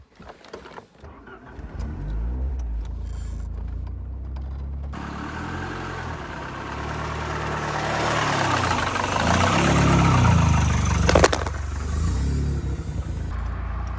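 A Ford Sierra RS Cosworth engine rumbles at idle, then builds into a louder, deeper drive with rising revs before settling back, heard close and steady throughout.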